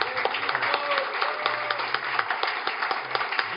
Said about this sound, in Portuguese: vamos bater umas palmas aí para o Benito.